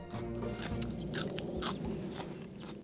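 Crisp, crunchy chewing of fresh glasswort (samphire), a salty succulent grown on tidal mudflats, heard up close as a few soft bites over a steady low background hum.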